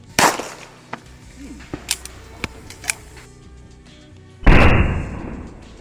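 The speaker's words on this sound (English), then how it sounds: "Let's try some basic SMB 45 ACP, subsonic lead 45 ammo" A subsonic lead .45 ACP round fired at a British Army Virtus helmet gives one loud, sharp shot with a decaying tail near the end, preceded by a few faint clicks and knocks.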